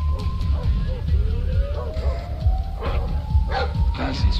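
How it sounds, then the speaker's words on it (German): Dogs bark and yip in Splinter Cell Blacklist at a private estate, short repeated barks at moderate distance over ambient game sound, with a faint tonal whistle and someone talking. "Oh, Hunde."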